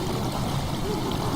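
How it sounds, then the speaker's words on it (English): Water pouring and gurgling as it fills a chamber in the video game Amnesia: The Dark Descent, a steady close rushing flow that continues throughout. "Water has begun to slowly fill the chamber."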